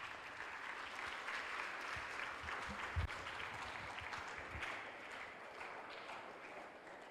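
A seminar audience claps for an honoured guest at a national mental health event: dense, sustained applause from a large crowd in a hall, fairly distant and even throughout, with a few louder claps near the middle.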